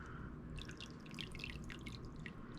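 Thick soap batter from a Bramble Berry DIY kit is poured down into a mold, giving a steady run of soft wet drips and splatters over a constant low background rumble.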